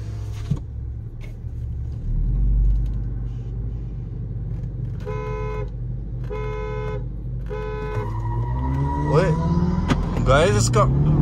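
Skoda Octavia vRS sedan launching from a standstill in a drag race in normal drive mode, its engine rumbling steadily and then rising in pitch through several gear changes, with a voice talking over it throughout.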